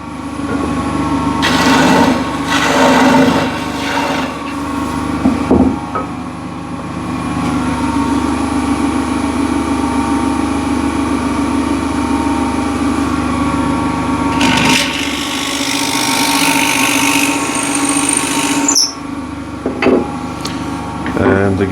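A wood lathe spins a trinket box while a gouge hollows it out. The motor gives a steady hum, with rougher cutting bursts rising and falling over it.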